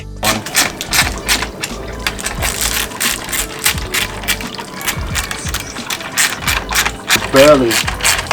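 Ratchet clicking steadily while tightening bolts on an aluminum radiator during a radiator install on a Subaru STI, with repeated bursts of sharp mechanical clicks and clanks up close in a workshop.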